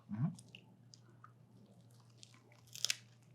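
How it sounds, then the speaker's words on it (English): Someone bites into crispy Kurobuta pork tonkatsu from a bento in Oahu, Hawaii: one close, crunchy bite at the start, then quiet with faint handling sounds and a brief sharp crackle near the end. "Let's take a bite."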